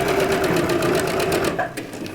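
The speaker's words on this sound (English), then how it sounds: "We're gonna back stitch again. So we'll get to the end. And then we're gonna reverse stitch" A sewing machine back stitching the end of a scrunchie runs in a loud, close, steady mechanical whir, then slows and stops with a few final clicks near the end.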